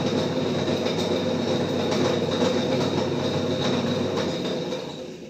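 A Drean Concept 5.05 washing machine drum spins under direct motor power, making a steady rumbling whir with a fine rhythmic clatter running through it. The sound holds level, then eases off near the end.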